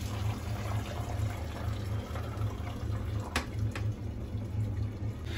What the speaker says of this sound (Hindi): देखिए यहाँ ठंडा पानी से धो रहे हैं।